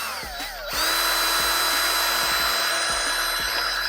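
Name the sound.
power drill with a bit drilling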